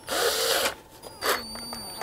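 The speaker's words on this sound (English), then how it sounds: "I'm gonna put my drill on again." Power drill running during cleaning of a Harman pellet stove at the end of the season, two short whirring bursts that rise and wind down, close and moderately loud, with no talking.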